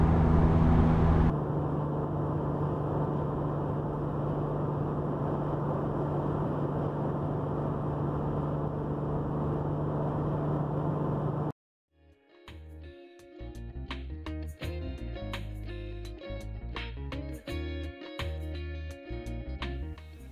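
Interior cabin drone of a Honda NSX while driving, a steady loud low rumble with road and engine hum, giving way midway to quieter, more irregular sound with sharp clicks.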